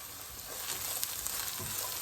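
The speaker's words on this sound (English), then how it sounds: "So we'll saute it a little bit." Baby spinach sautés in a pan with a soft, continuous sizzle and faint stirring, fairly quiet and with no voices.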